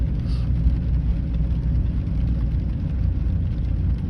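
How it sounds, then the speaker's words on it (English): A long line of cars idling in a bank drive-through, a steady low engine rumble that stays even and continuous throughout, with no talk. "as you can see, all these cars right here, they're just sitting in the car waiting their turn"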